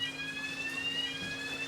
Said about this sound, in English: That noise you can hear is just an audible alarm,